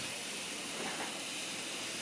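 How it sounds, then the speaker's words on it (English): A small model mill-type steam engine with a new valve hisses quietly and evenly, a soft continuous steam rush with a faint rhythmic undertone and no voices. "I'm running my mill-type engine once again"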